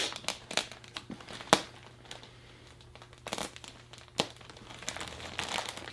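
A knife slices open plastic packaging on an Amazon customer return pallet, giving scattered crinkles and sharp snapping ticks close by, with a steady low hum underneath.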